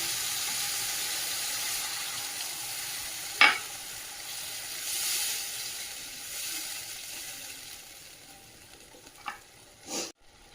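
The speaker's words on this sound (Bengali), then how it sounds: "এবার দিয়ে দেবো জল" Water poured into a hot pan for bele fish jhal curry gives a soft steady sizzle and hiss, with a few sharp clanks of utensils against the pan.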